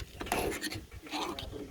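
A loop knife blade drawn along a sharpening hone, soft rasping strokes in two close passes, faint and near.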